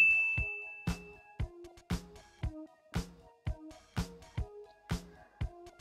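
A bright, clear bell-like ding rings about a dozen times in a steady, evenly spaced rhythm, each strike decaying quickly with no talk over it.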